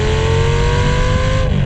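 A Lamborghini Gallardo's naturally aspirated 5-liter V10 with dual exhausts revs hard and loud, a sustained high-pitched wail held close up before cutting off abruptly.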